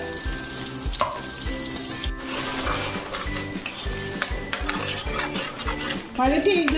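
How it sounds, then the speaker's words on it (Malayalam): Repeated scraping and clinking of a spatula stirring thick masala paste in a pan, over a soft sizzle, close and rhythmic, with no talking. "ഈ അരപ്പിനെ നന്നായിട്ട് അതിനകത്ത് നമുക്ക് വഴറ്റിയെടുക്കണം"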